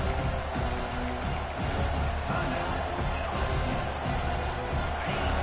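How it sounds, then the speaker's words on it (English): A packed stadium crowd roars in a College Football video game matchup against Notre Dame, a thick, continuous wall of cheering and rumbling noise with a commentator's voice talking over it. "listen to this crowd noise. This stadium is vibrating."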